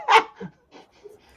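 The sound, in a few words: dogs barking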